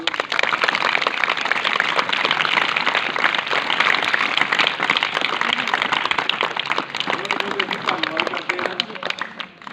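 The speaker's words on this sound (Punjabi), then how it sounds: "ਇੱਕ ਵਾਰੀ ਤਾੜੀਆਂ ਮਾਰ ਦਿਓ" A school audience applauds after a play in a village school, steady dense clapping filling the whole stretch while a voice talks over it.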